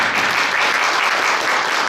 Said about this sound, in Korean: 한번 박수 한번.